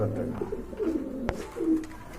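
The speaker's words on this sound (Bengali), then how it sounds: "এখানে কিন্তু দুই ব্রিডের দুইটা কবুতর" Two pigeons of different breeds at a pigeon farm give low, rolling coos close by, with a brief sharp knock midway.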